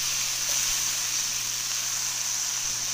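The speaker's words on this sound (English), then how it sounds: "we're just going to give this a stir" Steady sizzle of chipotle bowl filling frying in a pot, a continuous close hiss with faint scraping as it is stirred, no voices.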